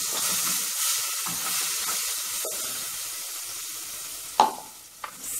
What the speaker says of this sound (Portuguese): Vamos refogar a nossa taioba.